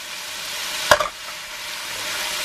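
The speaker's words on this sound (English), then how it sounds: "I'm going to get my onions and my garlic on the go." Onions and garlic sizzle in a pan, a close, even frying hiss interrupted by a single sharp clack of a utensil near the middle, with no talk.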